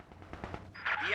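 Rapid bursts of rifle fire crack in a Company of Heroes 2 battle, a quick cluster of shots over faint background game noise, ending in a brighter, louder burst.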